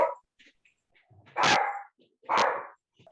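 A dog gives two loud, distinct barks close by, about a second apart, with a few faint softer noises in the quiet gaps between them.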